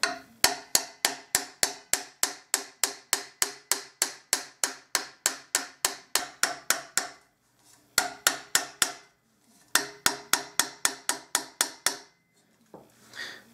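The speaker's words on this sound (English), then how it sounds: "I just wanted to start pushing these dents down" Rapid, evenly spaced sharp metallic knocks ring out as dents are worked out of an old cornet bell on a trumpet mandrel, in three runs separated by short pauses, close and loud with no talking.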